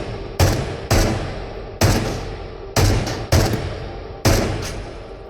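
A PPSh submachine gun held together with a rubber band fires in the video game Into The Radius: six sharp, loud single bursts spaced about a second apart, each with a decaying echo tail, no voices.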